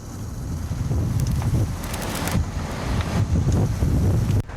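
Strong wind at sea buffets a fishing boat off Tongyeong, roaring steadily across the microphone with gusty surges and low thumps from the hull and waves.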